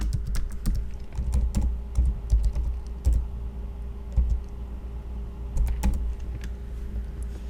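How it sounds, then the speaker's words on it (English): A computer keyboard clicks with quick, irregular keystrokes while a username is typed, close and distinct over a faint steady hum. "You would come here and type facebook.com username."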